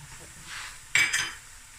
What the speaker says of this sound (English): now I'm going to add my garlic and ginger